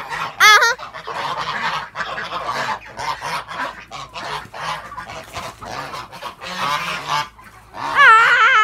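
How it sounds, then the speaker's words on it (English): A flock of geese honks repeatedly and loudly while being fed outdoors, with overlapping close calls throughout and a burst of sharp honks near the end. "Video yourself here feeding the geese."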